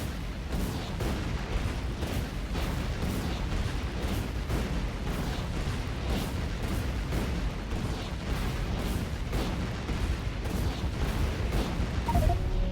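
Grenades going off one after another on the player in the game Factorio, a dense, rapid string of loud blasts at a steady, quick rhythm running without pause for the whole stretch.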